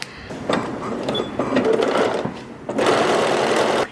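Sewing machine top stitching a linen pullover top, a steady whirring run in three close bursts with brief slowdowns between them, loud and near with no talking.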